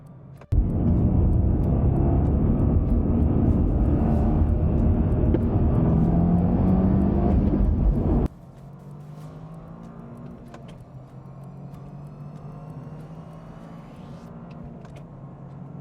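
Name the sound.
sports car accelerating hard from a standing launch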